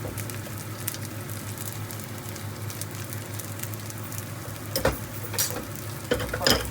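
Cabbage stir-frying in coconut oil with turmeric and salt, a steady close sizzle with occasional scrapes and clinks of stirring, no talk.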